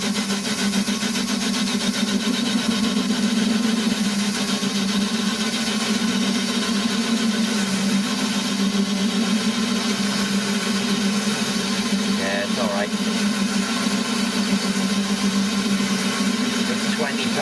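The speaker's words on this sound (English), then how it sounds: "I'm taking 40 thou facing cuts. Clattering a bit" A lathe takes 40 thou facing cuts on a cast engine flywheel with a coated cutting tip, giving a steady loud grinding whir with a low hum and a slight continuous clatter throughout.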